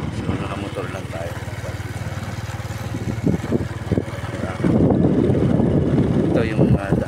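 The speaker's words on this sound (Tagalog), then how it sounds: "So nakamotor lang tayo." A motorcycle rumbles steadily along a road with heavy wind buffeting, its engine drone running throughout while someone talks over it.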